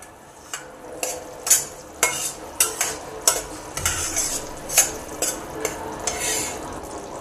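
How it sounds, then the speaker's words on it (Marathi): Spoon stirring melted jaggery syrup in a pan for rajgira ladoo, a series of sharp scrapes and clinks against the metal in an uneven rhythm, close and fairly clear over a soft background. "थोडा 1 मिनिट त्याला अजून मिक्स करूयात आपण"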